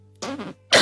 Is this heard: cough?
yes